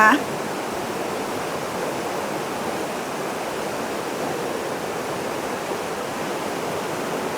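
A waterfall at a hot spring roars steadily nearby, a constant full rush of falling water with no pauses.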